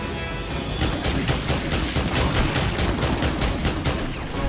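Pistol fire in the shooter game Destiny 2 Forsaken rings out as a dense, rapid string of shots, loud and continuous for several seconds with no talking.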